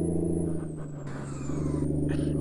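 A truck in Euro Truck Simulator 2 grinding into gear, a short harsh scraping whine over the steady low engine rumble, loud and close.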